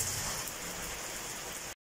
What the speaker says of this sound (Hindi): ये देख लें अभी भी बारिश हो रही है फुल स्पीडों के साथ